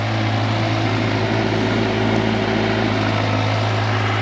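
A Kawasaki Versys 1000 LT motorcycle engine idles steadily and loudly nearby, a constant low drone with a strong low hum and no voices.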